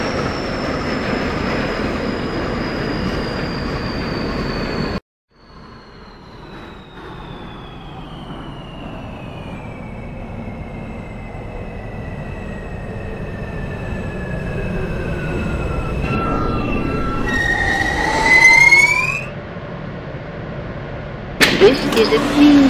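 An R160A New York subway train in the OpenBVE simulator, motors whining in long descending tones as it runs and slows, wheels squealing near the end, with a brief cut partway through.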